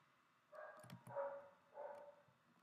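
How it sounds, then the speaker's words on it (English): A dog barks three times in a row, somewhat distant and muffled behind a faint background hum, with no speech over it. "Are you hearing the dog?"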